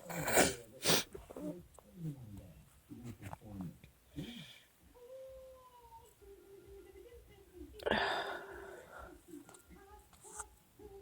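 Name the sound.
sneezing attack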